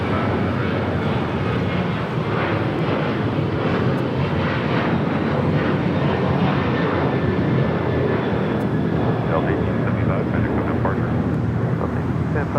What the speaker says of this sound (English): takeoff, Delta Airlines flight 1875 heading to Cabo in a 737-900 ER